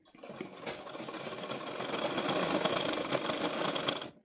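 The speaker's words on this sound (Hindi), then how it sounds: "अब हम फिर से इस पर सिलाई लगाएंगे" Sewing machine stitching a palazzo pant, a steady continuous motor whir with rapid needle clatter running throughout, fairly close and alone without talk.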